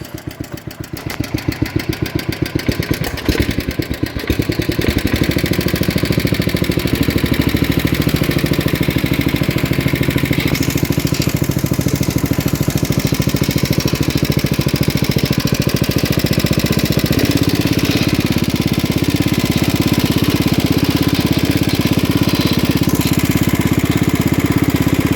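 A 1960s Toro Professional 70 reel mower's small engine cranks with a few uneven coughs, then catches and settles into a steady, loud running drone close by for the rest of the time.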